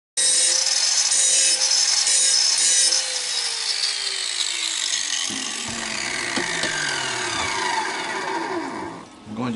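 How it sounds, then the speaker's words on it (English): Grinding a shallow V into the end of a metal piece for a rear fender mount on a Sportster softail build, a loud continuous abrasive whine that shifts in pitch and eases slightly partway through. "I'm grinding a shallow V on the end of the metal"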